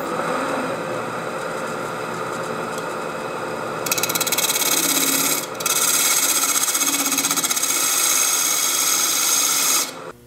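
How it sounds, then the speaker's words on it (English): A wood lathe spins a goblet blank while a small parting tool scrapes in to mark the cup area, giving a steady close rasping hiss that grows louder midway, briefly drops out, then resumes until it stops. "I'm going to just take a little parting tool and mark that area."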